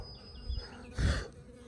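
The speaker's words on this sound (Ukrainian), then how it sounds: "А, мухи вже літають." Flies buzz outdoors near freshly cooked grilled meat, a close, low droning hum that swells briefly in the middle of a short quiet moment.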